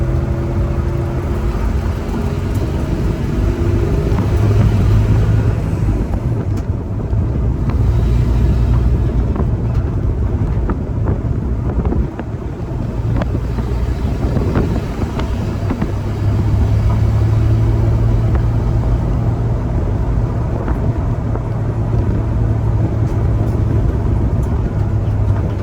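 A Ford F100 pickup with a brake fault drives steadily during a brake test, its engine and road rumble loud and continuous with a brief dip in the middle.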